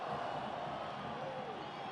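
A football stadium crowd cheers during a Brazil versus Paraguay World Cup qualifier, a faint, steady wash of distant roaring voices with no distinct peaks.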